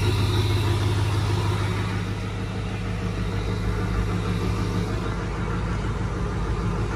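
A 2012 2500 diesel pickup truck idles on a cold day, its steady low rumble and clatter holding constant at close range throughout with no talk.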